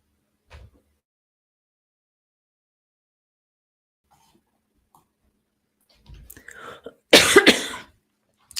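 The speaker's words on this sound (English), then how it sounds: "Sorry for all the coughing." A single person coughs in a quiet room: a faint early cough, then a harsh burst of a few loud coughs and throat clearing near the end, with near silence between.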